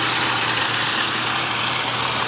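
A 1999 Oldsmobile Alero GL engine runs steadily at idle, a loud, even low rumble with a constant hum and no pauses.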